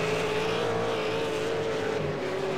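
V8 Supercars race cars scream around the Road Atlanta circuit, a loud continuous engine drone holding a steady pitch with slight shifts as the cars push through braking zones and corner exits.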